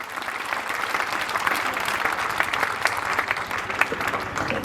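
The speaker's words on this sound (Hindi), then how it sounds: "इसलिए बनती है आपके दोनों हाथों की जोरदार तालियां" An audience claps hard and continuously at an award ceremony honoring students of a defence academy, dense close applause with sharp individual claps standing out.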